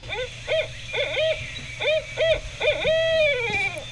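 A recording of an owl plays its hooting calls: about six rising-and-falling hoots in a steady rhythm, loud and close, followed by a longer drawn-out trill, with no talk over them.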